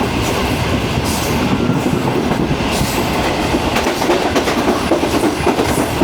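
The refurbished Pak Business Express passenger train runs at speed past Jhimpir station, a loud continuous rumble of wheels on rails with faint clickety-clack, heard from inside a carriage.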